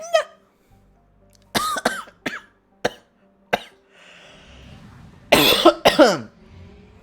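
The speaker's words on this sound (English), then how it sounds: "Totally meant to cough that much" A series of sharp, close coughs, several isolated hacks followed by a harder burst of rough coughing near the end, with quiet gaps between.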